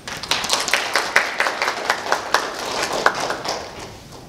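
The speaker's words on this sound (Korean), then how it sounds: "큰 박수로 맞이해 주시면 감사하겠습니다" A small audience at a forum applauds to welcome a speaker, individual claps clearly audible and spaced, loud at first then tapering off.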